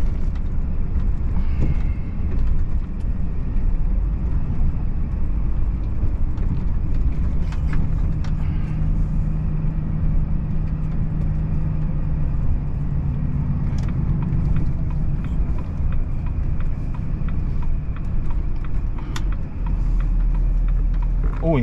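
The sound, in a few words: car driving on a bumpy road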